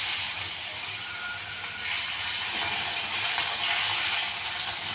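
Ginger sizzles in hot oil with cumin seeds and dried red chillies over lowered heat, a steady, even frying hiss that stays level throughout, with no voices.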